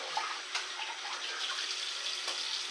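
A shaving razor is rinsed under a running tap during a wet shave, giving a steady, moderately quiet splashing rush of water with a few brief clinks and splashes, no voices.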